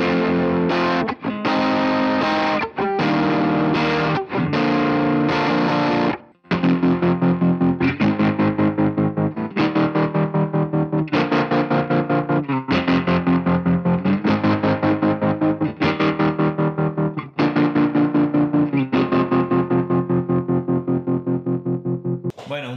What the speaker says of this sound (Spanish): Voy a conectar los tres pedales a la pedalera y a ver cómo suenan.